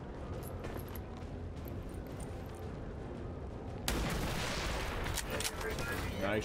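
A weapon fires at a mech in XCOM 2: War of the Chosen. After a low, steady background, a sudden loud blast breaks in, followed by a sustained, noisy rumble.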